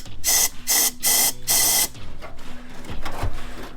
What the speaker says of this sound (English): we're going to start off with this air compressor. Going to blow out any crap that's in there.